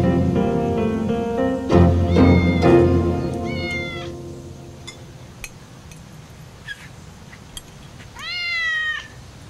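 A cat meows repeatedly at close range, a series of drawn-out rising and falling cries with pauses between them, preceded by a brief clinking sound and ending on one longer, louder meow.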